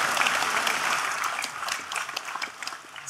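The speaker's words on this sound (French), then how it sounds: "J'aimerais que nous applaudissions à leur tour ces militants qui se sont battus depuis tant d'années" A crowd at a political rally applauds party activists, steady dense clapping that thins toward the end before a new swell.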